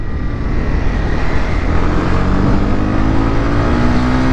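A Honda CB300R motorcycle engine revs steadily and loud, its pitch climbing as the bike accelerates up through the rev range, with steady wind rush throughout.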